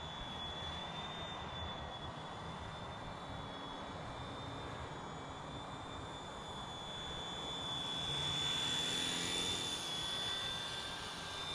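Radio-controlled scale model helicopter flying low to the ground, a steady whining rotor and motor hum with a high thin tone, swelling slightly louder near the end as it passes close.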